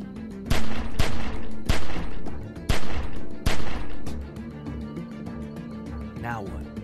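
Gunfire in the video game 400 Days: a series of loud, booming shots in uneven bursts roughly every half second, fading into quieter rattling and a brief whooshing sound near the end, with voices talking alongside.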